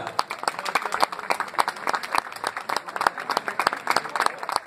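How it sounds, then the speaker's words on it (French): A crowd at a race winner's ceremony in Laval applauds with dense, continuous clapping that holds steady for several seconds. "on va l'applaudir tous ensemble"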